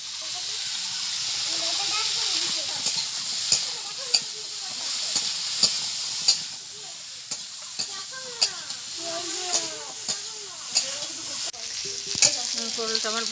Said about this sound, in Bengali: পটলটা আমার ভালো করে ভাজা হয়ে গেছে।